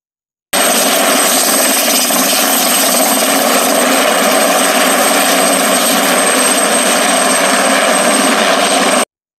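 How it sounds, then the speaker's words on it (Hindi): Helicopter rotor and engine drone loud and steady, a continuous close whirring that starts and stops abruptly, with no voices over it. "Helicopter means helicopter."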